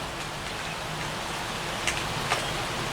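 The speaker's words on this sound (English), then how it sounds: "So it is raining now." Steady rain patters down in a constant hiss, with a couple of louder drops landing close by, falling on dirt outdoors.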